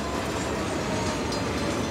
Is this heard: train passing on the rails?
yes